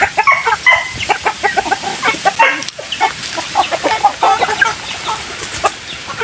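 Rhode Island chickens at a backyard farm cluck and squawk in quick, overlapping bursts close by, keeping up a busy, restless chatter throughout with no human voices.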